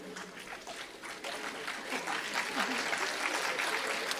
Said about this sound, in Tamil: மனசாட்சியுடையவர்கள் கைத்தட்டுகிறீர்கள்.